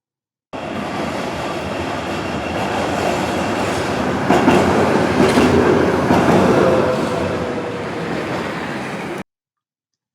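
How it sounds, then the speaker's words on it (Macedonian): A tram rolls along its rails with a loud continuous rumble and rattle, swelling slightly midway with clattering wheel noise, then ending abruptly. "трамвај"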